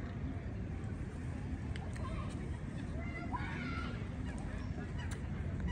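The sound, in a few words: ducks or geese calling at Saint James Park lake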